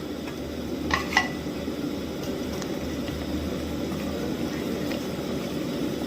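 Cassia leaves for an Isan-style curry with cow skin go into a pot of boiling water, with a couple of quick metallic clinks over a steady, rumbling bubbling.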